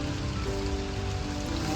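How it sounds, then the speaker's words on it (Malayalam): Rain pours steadily during a snakehead fishing trip outdoors, a dense continuous hiss of drops on surfaces that holds even throughout, with a faint low tonal hum underneath and no talking. "അതെ നമ്മുടെ മഴയും പെയ്തു തുടങ്ങിയതിനിടയ്ക്ക്"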